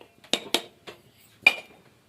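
Metal containers and kitchen tins clinking as they are carried indoors in a home kitchen, four sharp separate knocks spread over two seconds, close and fairly light, with quiet gaps between.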